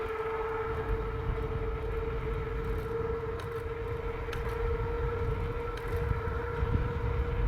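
KBO Flip electric scooter with a 500 watt motor running at speed, a steady high motor whine over continuous wind and road rumble, close and constant, no talk.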